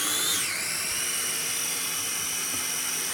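A kitchen blender purees vegetables for a cooking show dish, a loud, steady high-pitched whir that drops in pitch early on and then holds as a continuous motor drone.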